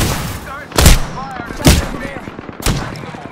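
Gunfire in the Apex Legends video game: three loud, widely spaced heavy blasts over busy game noise, with a voice heard faintly between shots.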